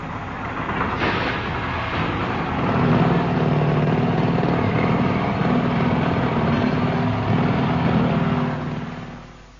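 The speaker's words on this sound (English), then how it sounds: "The drills gave it away." A recording of roadworks with drills, played on a radio comedy panel show: a steady, dense mechanical roar of machinery runs for about nine seconds before fading out, with no voices over it.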